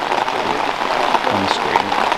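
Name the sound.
pouring rain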